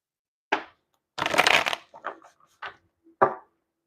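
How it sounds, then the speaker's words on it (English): A deck of tarot cards is shuffled up close, with a dense riffling burst in the middle surrounded by several short, crisp snaps and slaps of cards against the silence. "One more shuffle here."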